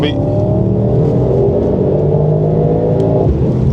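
A car engine revs hard under acceleration during a track test day, a loud steady roar with rising harmonics that shifts near the end, while people talk over it inside the car.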